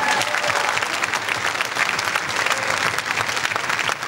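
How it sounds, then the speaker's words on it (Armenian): A live audience at a televised talent show gala applauds steadily, dense even clapping from a crowd filling the whole stretch without a break. "ձեզ ծափարությունները"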